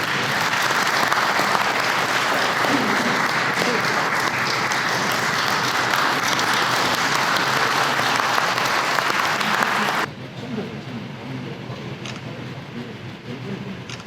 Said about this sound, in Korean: 큰 박수로 한해 주시기 바랍니다.